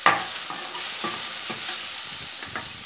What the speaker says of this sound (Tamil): பச்சை வாசம் போகிற வரைக்கும் நல்லா வதங்கட்டும்.